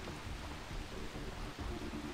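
Rain falls in the video game Far Cry 3 as a steady, soft, even hiss of downpour that continues without pause at a low level.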